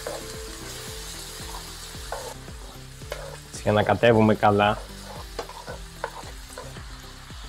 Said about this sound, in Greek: Και τώρα θα ρίξουμε λίγο νεράκι.